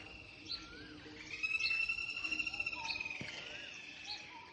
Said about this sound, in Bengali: কোকিলের ডাক শোনা যাচ্ছে।